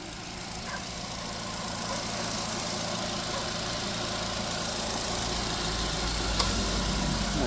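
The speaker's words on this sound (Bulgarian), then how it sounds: "Мотора работи перфектно." A 1.6-litre petrol Nissan Micra engine runs at a steady idle, a constant low hum and faint rattle close by with no other sounds.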